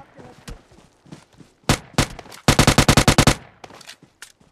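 Gunfire in the mobile shooter game BGMI Lite: a few isolated shots, then a fast burst of about ten loud automatic rounds, with scattered quieter game sounds around them.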